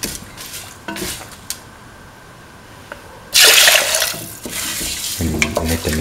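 Water poured into a mung bean mixture in a pan and stirred, with a brief rush of pouring followed by soft scraping and stirring noises, close and moderately loud.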